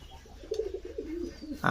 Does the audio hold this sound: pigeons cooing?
yes